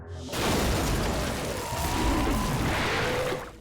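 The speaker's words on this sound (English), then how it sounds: "They ignite it, triggering a massive explosion." A loud, sustained blast with a deep rumbling roar that fills a few seconds, then cuts off abruptly.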